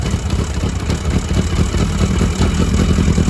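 A 1982 Yamaha Maxim XJ750 motorcycle engine running on choke just after starting, a steady close-up rumbling idle with slight unevenness throughout.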